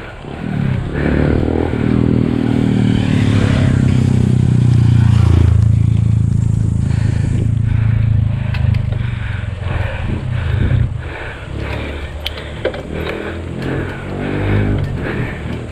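Motorcycle engine passing on a ride up Mt Balakbak, a loud, steady rumble building to a peak midway and then fading, with clattery road noise and scattered knocks.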